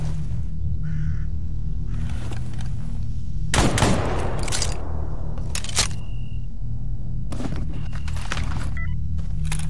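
Gunfire in the first-person shooter STALKER: Anomaly, played in Iron Man mode against a heavily armored enemy: several sharp, loud shots with a long crack near the middle, over a steady low rumble.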